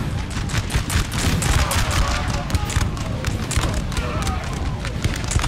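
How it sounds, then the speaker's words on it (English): Continuous crackling musket volleys from Russian troops in the Napoleon: Total War video game, a dense layered battle din of many shots with a speaking voice running over it. "But the Russians are firing on them"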